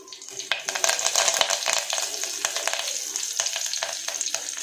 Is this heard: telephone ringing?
no